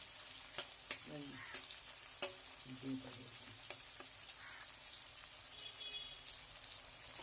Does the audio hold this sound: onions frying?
yes